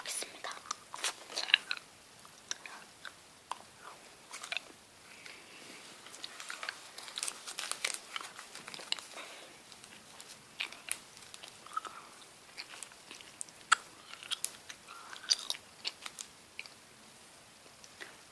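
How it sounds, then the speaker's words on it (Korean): Close, quiet mouth sounds of someone chewing soft chewy candy, with wet smacking and small crunches repeating irregularly throughout. "쩝쩝대는 소리 죄송합니다"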